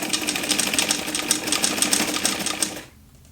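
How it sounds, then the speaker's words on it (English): A walking foot sewing machine runs a fabric sample in a fast, steady, rattling chatter of stitches for nearly three seconds, then stops abruptly, leaving near silence. "Just going to run a sample that I sewed earlier and make sure that everything is working properly here"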